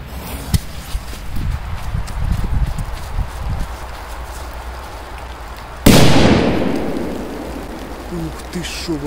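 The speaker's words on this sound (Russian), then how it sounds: "Сейчас должен быть просто лютый взрыв." A powerful firecracker set under a metal canister goes off in one loud, sudden blast partway through, its noise trailing off slowly after a stretch of outdoor shuffling and faint talk.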